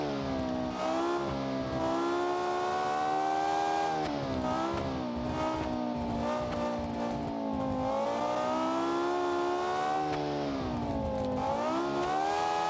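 A race car engine in the video game BeamNG.Drive drones and revs steadily, pitch rising and falling as it accelerates and shifts, loud and continuous with no talking.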